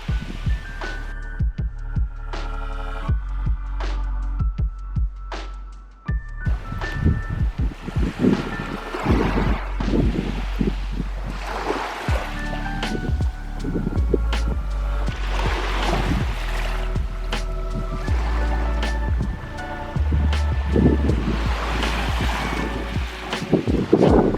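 Wind-buffeted waves and surf on a beach shore with aqua water, a steady rushing wash of water under rough microphone wind noise, with louder surges every few seconds and no talking.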